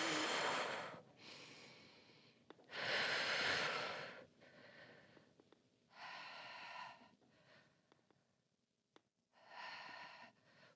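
Deep, audible breaths during a Pilates reformer exercise, long loud inhales and exhales repeating in slow cycles with short pauses between, close and airy.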